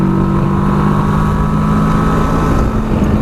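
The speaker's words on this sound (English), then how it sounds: "Nice rumble about the engine on the Versys. This is a parallel twin" A 2018 Kawasaki Versys 650's parallel-twin engine rumbles loud and steady while riding, its deep drone running continuously under a layer of wind rush.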